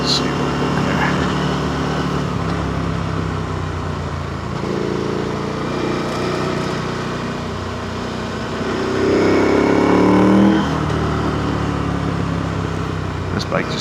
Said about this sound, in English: This bike just sounds absolutely fantastic now.